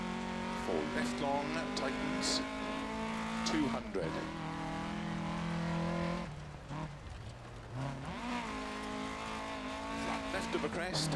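Rally car in the Dirt Rally 2.0 video game revs hard with rising and falling engine whine and tyre skids on loose surfaces, dropping briefly before roaring again, while a person talks over it.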